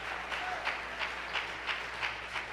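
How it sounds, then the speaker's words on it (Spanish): A church congregation claps in steady, rhythmic time, about two claps a second. The sound is moderately distant and fairly faint, with no talk over it. "¿Cuánto le dan palmas al Señor, hermanos?"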